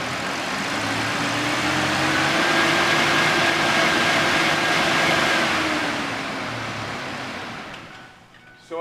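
A car engine is held at about 3,000 rpm, a loud steady whining drone that holds for several seconds, then eases off and drops away toward the end, with no talk.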